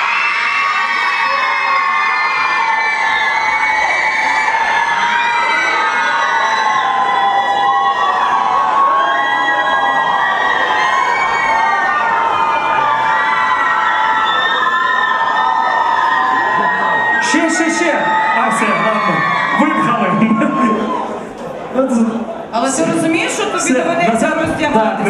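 Girls scream and squeal at full pitch in a squeal contest at a crowded club event, a sustained piercing chorus of overlapping shrieks with crowd cheering, then shouting voices and scattered bursts near the end.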